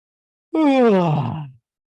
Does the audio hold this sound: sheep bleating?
no